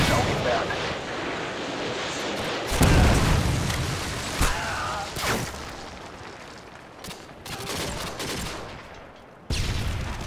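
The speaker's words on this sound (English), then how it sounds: "Predator missile inbound." Predator missile strikes and explosions thunder through a Call of Duty: Modern Warfare 2 match, a loud boom bursting in amid steady gunfire, with further blasts and crackling shots layered over a dense battlefield din.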